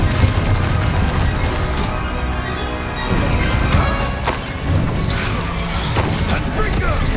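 Confringo fire spell blasts erupting repeatedly in the Hogwarts Legacy video game, dense booming crashes and impacts layered over constant combat noise, loud throughout with no pauses.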